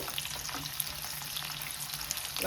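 Onions sizzling steadily in hot mustard oil, a continuous close frying hiss with crackles and no voices.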